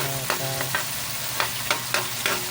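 Vegetables frying in a wok-style pan, a constant loud sizzle with several short scraping strokes of a stirring utensil spaced unevenly through the clip.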